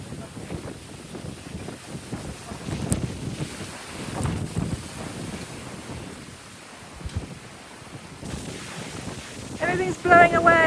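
Strong gusting wind in a Tuscan storm during an outdoor Sunday lunch, buffeting rumble and microphone-battering roars rising and falling in irregular surges, with brief voices and some clatter near the end.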